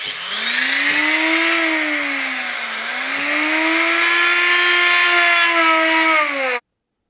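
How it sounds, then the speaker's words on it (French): A power drill enlarges the hole in a Nitro scooter fork part with a loud, continuous whine that dips briefly in pitch under load and then cuts off abruptly; no one speaks. "Donc du coup, je vais grossir le trou au milieu."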